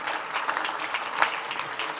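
Brief burst of audience applause at a talk on opting out of technocracy, dense clapping at moderate level filling the whole short stretch.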